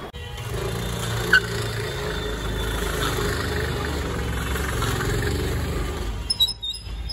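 A Honda Activa 3G scooter engine runs at a steady, close, mid-pitched hum with the throttle held open during drift practice, carrying a faint vibration and a brief clatter near the end.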